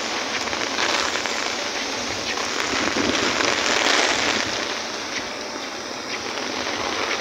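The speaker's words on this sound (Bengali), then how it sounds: "কি বাতাস দেখছেন, অনেক বাতাস, প্রচুর বৃষ্টি, সাথে অনেক বাতাস, অনেক বৃষ্টি" Heavy rain pours steadily in Dhaka, a dense, loud hiss of drops on surfaces with gusting wind swelling and easing throughout, with no voices.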